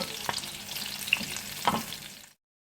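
Kebabs fry in oil over a medium flame, a steady close sizzle broken by a couple of sharp spoon clinks and stirring scrapes, then the sound cuts off abruptly.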